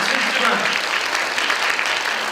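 Full, continuous applause from a congregation at Tacoma Central Presbyterian Church, many people clapping together in an even, loud roar for a couple of seconds.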